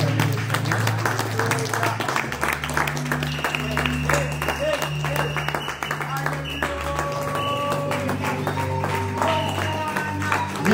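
A church congregation applauds during an ordination service, with sustained dense clapping throughout while sustained music tones play underneath and voices are heard through it.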